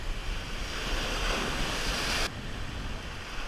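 Ocean surf breaking on the shore at Montauk under a northeast wind, a loud wash of waves with gusty wind noise on the microphone, easing slightly partway through.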